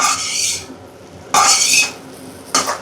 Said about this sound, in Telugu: ఇలాగే కలుపుతూ ఫ్రై చేసుకోవాలి ఒక టూ మినిట్స్ పాటు ఫ్రై చేసుకుంటే అయిపోతుంది